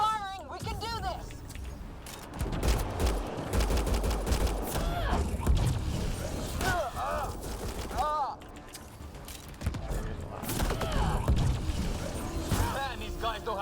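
Sustained gunfire from a firefight in Mass Effect Andromeda, steady loud bursts running throughout while voices talk over the shooting.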